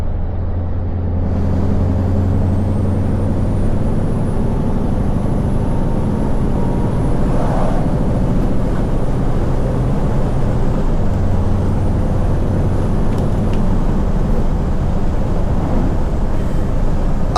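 A Scania V8 lorry on the move, its loud, steady engine drone filling the cab without a break, with a faint whistle overhead and a brief hiss partway through.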